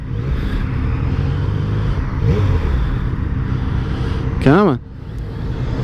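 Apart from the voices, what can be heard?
Yamaha MT-09 motorcycle accelerating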